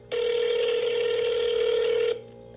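A telephone in a Guam public health quarantine setting rings in one steady, loud, unbroken tone lasting about two seconds, with no talk over it.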